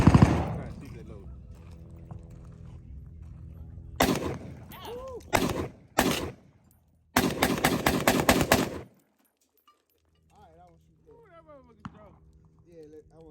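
Several loud, sharp gunshots at a shooting range, separated by gaps, with a dense cluster of rapid reports near the middle, then quieter handling noise and faint voices afterward.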